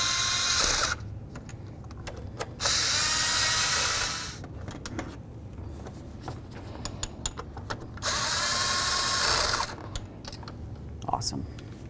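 Power tool driving throttle body bolts on a 2005-14 Ford Mustang, several short close whirring bursts separated by pauses, loud and near, with faint clicks between runs.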